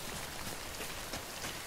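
Steady rain in the video game Death Stranding, a dense even hiss of falling drops on surfaces that holds throughout at a constant level, with no voices over it.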